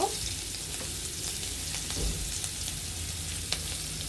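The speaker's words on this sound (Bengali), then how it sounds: "এখানে একটি পেঁয়াজ কুচি অল্প কিছু পরিমাণের মতো আমরা পেঁয়াজ কুচি এখানে দিয়ে দিব" Chopped onion sizzles steadily in a hot pan of oil for a Bengali ridge gourd and shrimp dish, with a few faint clicks of stirring.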